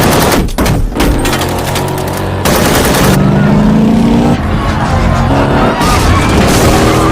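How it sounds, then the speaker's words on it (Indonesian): Bursts of rapid gunfire crack out during a film car chase, sharp volleys stopping and starting over roaring engine and vehicle noise, with a rising engine whine midway and loud, abrupt cuts between shots. "mereka masih dikejar oleh sebuah mobil musuh hingga terjadi aksi kejar-kejaran dan saling tembak"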